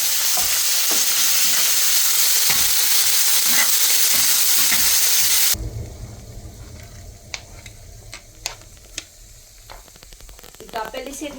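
Urad dal and chana dal frying in hot oil for uttapam, a loud dense crackle that stops abruptly midway, followed by quieter pan sounds with a few sharp clicks.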